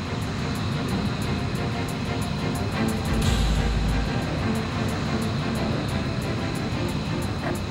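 A MiG 1.44 jet in Ace Combat Infinity roars steadily through a left turn, a loud continuous engine drone with a deeper surge midway and a faint repeating tick.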